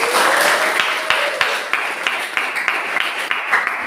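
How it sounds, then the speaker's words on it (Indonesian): Classroom applause after a group's grade is announced, a modest, close scatter of hand claps with a faint tonal whistle early on, fairly even in level throughout. "Tepuk tangan."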